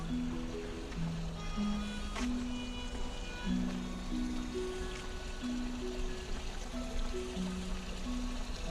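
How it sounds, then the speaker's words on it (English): Water flows steadily in a stainless steel memorial fountain in a rose garden, a soft continuous trickle and splash, with faint tones and ambient sounds around it. "This is the Frank Beach Memorial Fountain."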